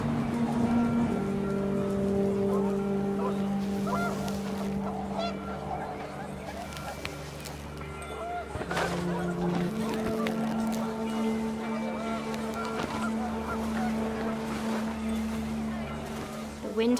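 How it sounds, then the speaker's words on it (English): Panicked geese in the video game What Remains of Edith Finch honk repeatedly and loudly in a windy outdoor scene, their cries layered over a steady low drone that runs throughout. "The wind picked up and panicked geese appeared and quickly went."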